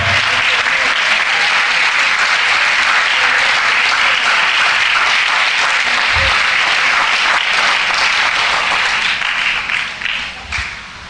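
A church congregation claps loudly and steadily for several seconds, then the applause thins out and tapers off near the end.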